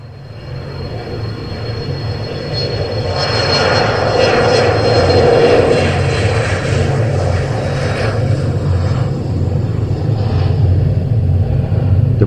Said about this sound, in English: The plane took off.